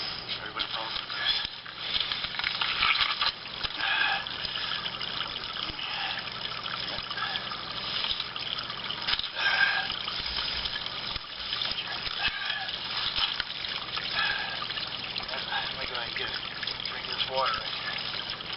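Water trickles and splashes over rocks along a small wild hillside, a steady close babbling that runs throughout with faint background noise.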